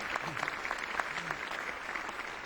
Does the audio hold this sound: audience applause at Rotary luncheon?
yes